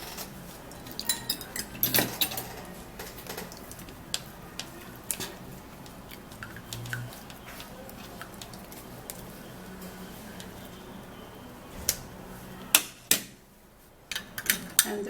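An onion mixture pushed through a sieve into a bowl, soft scraping and rubbing with scattered light metallic taps and clinks, faint and close, with a brief quiet gap near the end.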